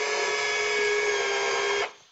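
An automatic label dispenser machine runs with a steady, loud mechanical whir while it strips and separates sticker labels, then winds down abruptly near the end.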